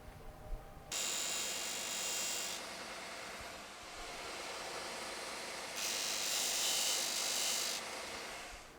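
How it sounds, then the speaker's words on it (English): Small ebony strut pieces for a steel-string guitar are ground to size on a disc sander, a loud rasping whir with two brighter bursts as the wood is pressed against the spinning disc. "I'm going to get them sanded to size here on the disc sander"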